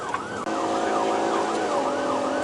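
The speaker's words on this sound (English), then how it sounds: "I still hear lights and sirens" A police car siren wails, rising and falling repeatedly, loud and close, over a steady engine and road rumble during a high-speed chase, with no voices.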